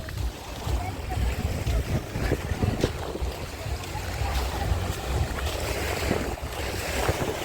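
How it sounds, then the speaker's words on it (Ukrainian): Steady rushing of slightly rough Black Sea waves along an Odesa beach mixed with wind buffeting the microphone, continuous and fairly loud throughout, with faint voices underneath. "не дивлячись на те, що трохи море хвилюється"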